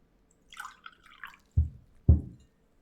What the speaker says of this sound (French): Je peux remplir ce deuxième verre.